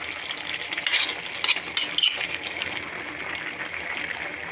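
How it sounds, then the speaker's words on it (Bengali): Onion and garlic frying together in a pan for a dried-fish curry, a steady bright hiss with a few faint clinks from the pan, heard alone at moderate level. "পেঁয়াজ, রসুন সবগুলো যখন একসাথে ভাজছে তো ওগুলো দিয়ে দিচ্ছি"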